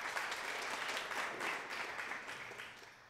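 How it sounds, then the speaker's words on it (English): An audience bursts into steady applause, dense clapping filling a few seconds at moderate volume before gradually tapering off. "Give yourself a big round of applause."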